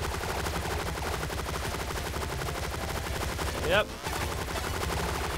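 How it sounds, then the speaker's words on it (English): Rapid gunfire keeps up almost the whole time in the shooter Relic Hunters, shotgun blasts mixed into the continuous loud barrage, with one short break near the end and a brief spoken word over it. "That's a shotgun!"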